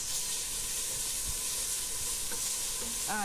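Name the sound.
sautéing pounded green herb paste for tripe stew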